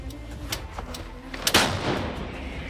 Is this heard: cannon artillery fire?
yes